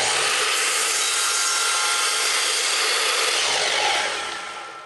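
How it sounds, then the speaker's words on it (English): A saw fitted with an 80-tooth crosscut blade cuts through a plexiglass sheet, giving a loud, steady, bright whine that holds for several seconds and then trails off as the cut ends. "I'm going to cut the plexiglass now"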